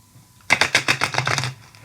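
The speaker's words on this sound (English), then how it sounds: "I'm just going to give the cards a quick shuffle" Tarot cards being given a quick riffle shuffle, a rapid burst of close, crisp paper flutters lasting about a second after a brief quiet start.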